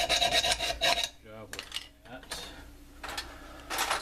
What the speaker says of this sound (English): These take off metal really quickly